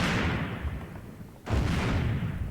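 Two heavy rifle shots in a WW2 strategy video game, each a booming low blast with a decaying rumbling tail, the second following about a second and a half after the first.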